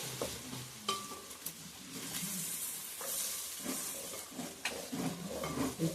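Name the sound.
frying prawn pickle ingredients in groundnut oil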